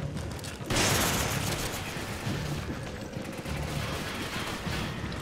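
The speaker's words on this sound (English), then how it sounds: "Can you stop shooting at me?" Gunfire in the video game Resident Evil 5, with a sudden loud burst erupting into sustained dense crackling shots and noisy combat over a continuous rumbling background.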